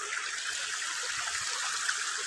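Water from an underground spring flows in a steady, even rush, a continuous close trickle and gush with no voices.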